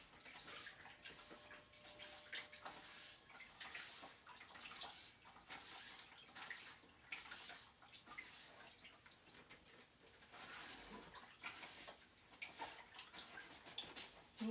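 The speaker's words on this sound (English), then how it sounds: "I got a water basin, I'm just washing it on the side here." A board is washed by hand in a water basin, with soft splashing, sloshing and dripping water in irregular bursts, fairly quiet and close, and no speech over it.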